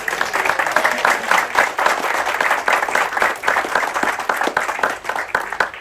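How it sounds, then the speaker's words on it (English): Crew and guests aboard the river cruise ship Amadeus applaud entertainers Fifi and Ruslan, a lively, close burst of many hands clapping that pulses on without pause. "Fifi and Ruslan, big applause, please."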